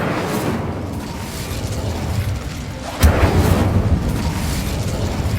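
Incendio fire spell cast in Hogwarts Legacy: a steady roaring rumble broken by one sudden loud whooshing burst partway through, then heavier crackling roar continuing after.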